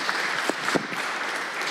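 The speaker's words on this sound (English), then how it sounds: "I just want to give Jacob Van Sickle a round of applause" A city council meeting crowd breaks into brief, steady applause of many hands clapping together, with no talking over it.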